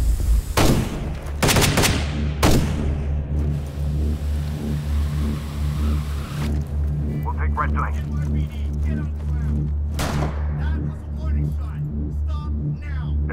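Gunfire rings out on a bridge in the Rainbow 6: Patriots game trailer as NYPD fire on a bomber. Sharp rapid bursts come early and again near the end, over rumbling vehicle engines and voices talking.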